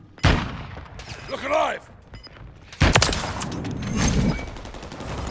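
Heavy gunfire erupts in Call of Duty: Modern Warfare 3 multiplayer: a sharp shot, then loud sustained bursts of rapid automatic fire, close and dense, with a voice shouting briefly between volleys.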